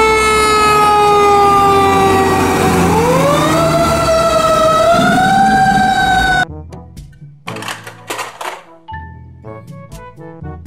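A loud toy fire truck siren wails with rising and falling pitch, then cuts out and gives way to jumbled music and sound effects.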